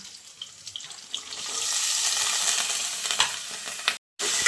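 Banana stem thoran is stirred in a pan, a quiet start building into a steady close sizzling rush with soft scraping, cut by a brief silence near the end; no talking.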